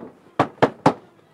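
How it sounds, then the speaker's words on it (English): Three sharp gunshots from a drive-by shooting at a residential intersection, evenly spaced about a quarter second apart, loud and percussive against a quiet outdoor background. "those are gunshots"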